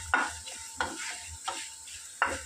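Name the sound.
dry roasting red chillies and curry leaves in a pan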